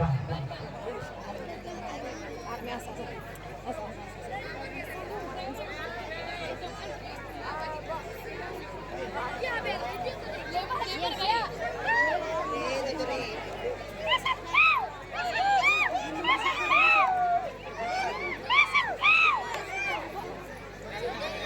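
Crowd of schoolchildren and audience chattering and stirring at a school stage event in Balwadi, a steady babble of many voices that swells louder and busier toward the end.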